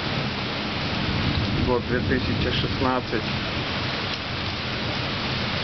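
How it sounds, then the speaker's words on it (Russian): Heavy rain and thunder during a night tornado in Houston, a steady dense roar of downpour filling the whole stretch, with someone speaking briefly over it. "Гром, молния."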